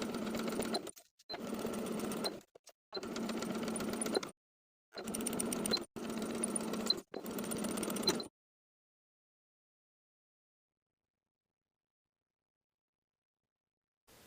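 A sewing machine runs a 3mm straight stitch, sewing a facing to the bottom of a knit T-shirt sleeve in five close bursts separated by short pauses, then falls silent.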